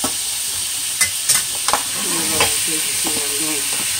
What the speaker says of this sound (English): Now, I flip this salmon.